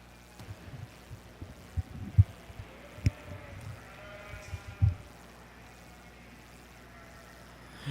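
Cordale yearling ewes bleat at a junior breeding sheep show ring at the Ohio State Fair, with scattered bleats of varying loudness over a quiet background hum.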